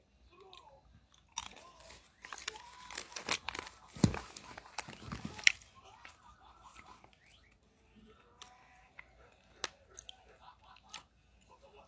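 Crunchy chewing of cashew nuts eaten as a late-night snack, with irregular bites and crackling mouth sounds close to the mic, interspersed with quiet pauses.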